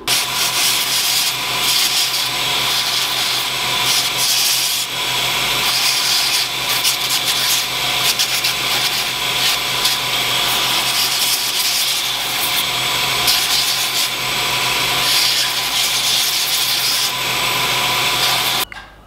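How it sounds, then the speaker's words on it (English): A slack belt grinder with a 60 grit belt softens the sharp edges of a forged hammer head, giving a steady, loud abrasive rasp that runs continuously and alone for the whole stretch before cutting off at the end. "I'm going to be using the slack belt part of the grinder, and basically what I'm doing is I'm going to soften the sharp edges"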